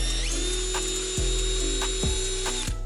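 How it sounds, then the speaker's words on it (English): A power drill whirs steadily while boring holes in a BMW F30 rear M Sport bumper, its pitch dipping with a few clicking catches as the bit bites into the plastic, close and loud. "Drill it out, Yeah, so pretty much just drill it out."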